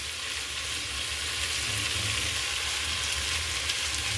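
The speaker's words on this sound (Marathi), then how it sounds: "आता याच्यामध्ये मटार टाकू। मटार मस्त परतून घेऊ।" Green peas with soya and carrot sauté in an oiled pan for a veg pulao, giving a continuous, fairly loud hissing sizzle with faint stirring beneath and no voices.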